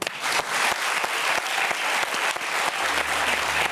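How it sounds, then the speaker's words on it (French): A French television talk show studio audience breaks into loud, sustained applause, dense clapping close to the microphone that holds steady throughout. "On l'applaudit."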